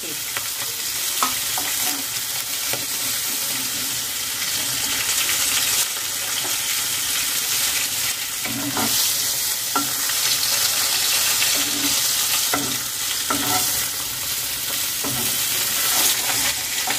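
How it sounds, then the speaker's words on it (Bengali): Pieces of fish fry in oil in a kadai, a continuous close sizzle and crackle with scattered sharper spatters and faint clinks, no voices. "এইভাবে একই পদ্ধতিতে সব মাছগুলো ভেজে নিতে হবে"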